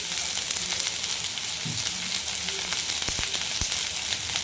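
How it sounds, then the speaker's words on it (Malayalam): Sliced onions sautéing in oil with ginger and garlic for a vegetable coconut milk curry make a steady, close sizzle, with a few soft knocks near the end and no talking. "ഈ ഉള്ളി നന്നായിട്ടൊന്ന് വഴറ്റണം"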